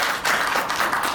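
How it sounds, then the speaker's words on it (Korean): Applause from a conference audience at the close of a talk in a defense session, a steady dense patter of clapping lasting about a second, fairly loud and close throughout. "그러면 박수로 마치겠습니다"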